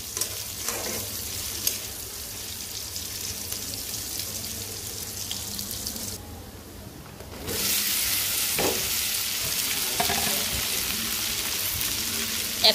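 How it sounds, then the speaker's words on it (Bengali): Onions frying in oil in a home kitchen pan for okra bhaji, a steady close sizzle with occasional stirring clicks and a brief quieter dip midway. "এখন পেঁয়াজটা ভাজবো।"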